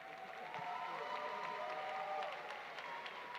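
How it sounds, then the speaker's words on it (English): An audience at a 2019 school graduation ceremony applauds, a faint, steady patter of clapping from a crowd heard at a distance, with a few light cheers mixed in. "Please give them a round of applause."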